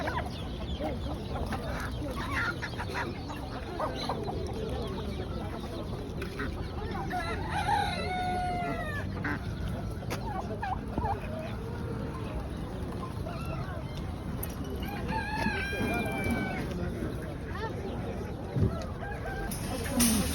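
At the Tabuk animal market in Saudi Arabia, many chickens of different breeds cluck steadily over a busy crowd, and roosters crow clearly several times. Voices murmur in the background throughout.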